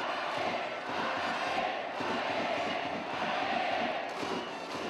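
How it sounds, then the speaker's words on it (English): Baseball fans cheer during a game in Maine, a dense continuous crowd roar with no breaks, steady and moderately loud throughout. "The cheering during a game"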